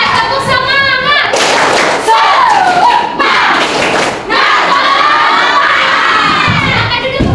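A classroom of schoolchildren shouts a loud spirit chant together, with rhythmic clapping and thumping mixed into the crowd noise and cheering throughout.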